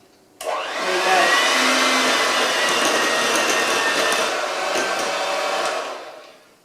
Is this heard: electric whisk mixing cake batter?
yes